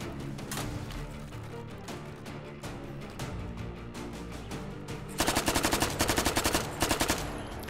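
Rapid automatic gunfire from an open-bolt gun in the VR shooting game H3VR, a loud steady burst through most of the stretch, then sharper, louder rhythmic shots near the end.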